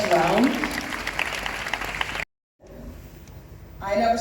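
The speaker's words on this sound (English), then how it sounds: "So let's clap for them the first round." An audience applauds at an International Women's Day event, with loud clapping at first, then a brief cut to silence, then scattered clapping that swells again at the end. A voice speaks over part of it.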